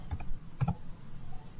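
Computer keyboard typing into a Microsoft Excel 2019 spreadsheet, a few soft close key clicks in a short burst with a pair of sharper taps midway, faint overall and without talk.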